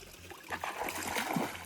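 Small splashes and a soft trickle of water in a little pool on a hot day, faint and close, with a few brief sloshing bursts.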